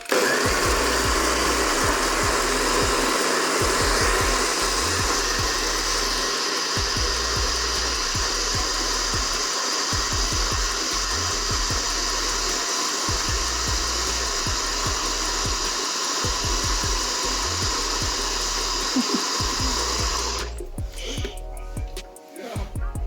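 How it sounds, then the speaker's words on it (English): A blender or NutriBullet blending a thick smoothie runs continuously at high speed with a loud, steady whir and rhythmic pulsing, then cuts off near the end. "you put it in your very awesome NutriBullet or blender, or you close it properly first and then you blend it"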